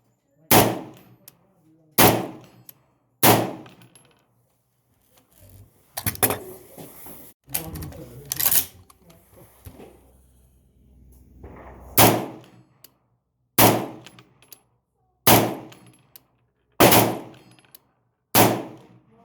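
A Remington .223 rifle fires 55-grain rounds at a 100-yard target on an outdoor shooting range. About ten sharp, loud shots ring out at steady intervals, with a stretch of clattering handling noise in the middle.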